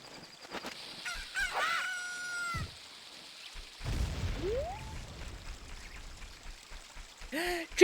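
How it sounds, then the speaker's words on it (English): A chicken clucks and squawks in a SNES video game, brief bird cries and game effects scattered among clicks, a swooping tone and other sounds, with no speech over it. "I need that chicken, right."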